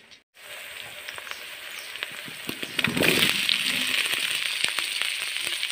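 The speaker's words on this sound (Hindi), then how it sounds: "छोटी छोटी आलू का हमने छिलका निकाल लिया है, अब इसको हम तेल में तलेंगे।" Small peeled potatoes drop into hot oil and fry, starting a close, steady sizzle that swells into a louder bubbling crackle about halfway through and keeps spitting, with no voices.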